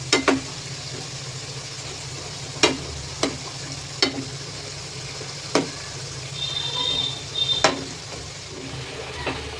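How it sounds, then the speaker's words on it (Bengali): Wheat-flour snacks deep-fry in oil over a high gas flame, a loud continuous bubbling sizzle punctuated by about eight crisp utensil clicks spaced a second or so apart. "এবার গ্যাসের ফ্লেমটা হাই করে দেবো দিয়ে গোল্ডেন ব্রাউন করে ভেজে নেবো"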